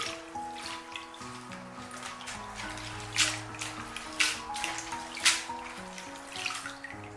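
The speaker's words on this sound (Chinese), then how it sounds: "先把绿豆芽放入装满清水的大盆中，浸泡10分钟，把绿豆芽清洗干净。" Mung bean sprouts are rinsed in a large basin of water, giving a few soft splashes and sloshes at a steady pace, heard under continuous background music.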